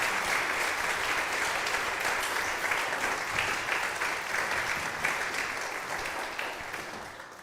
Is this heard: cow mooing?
no